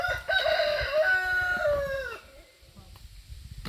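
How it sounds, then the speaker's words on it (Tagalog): A native chicken rooster crows once at a fish farm, a loud, close, drawn-out call that trails off, followed by quieter background noise. "Meron din tayong mga native dito na manok dyan. Maraming native chickens dyan."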